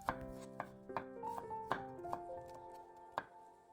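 A whole big carrot julienne sliced with a knife on a board, a series of crisp, close chopping knocks at an uneven pace in a quiet room.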